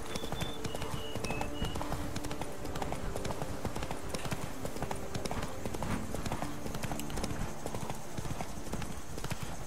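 Horse hooves clip-clop at a steady gallop throughout a ride across a bridge in The Witcher 3: Blood and Wine, loud and continuous under game ambience with faint background voices.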